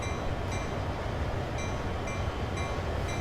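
Southern Pacific 4449 steam locomotive hauling a coal drag in a train simulation game, a steady close rumble with regularly spaced rail clicks roughly every half second.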